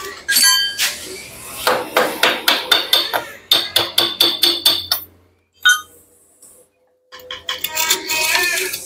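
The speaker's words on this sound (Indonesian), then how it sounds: "Palu." A hammer strikes metal in rapid, sharp, evenly spaced blows, loud and close, with a brief pause and then another quick burst of hits.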